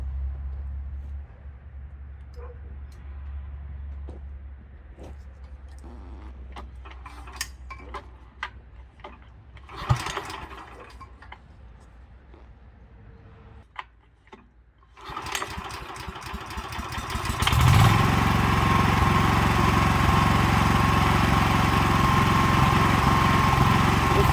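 A walk-behind cultivator has trouble starting: faint ticking and clattering, some sharp knocks and brief cranking attempts, then the engine catches near the end and runs with a loud, steady, close drone.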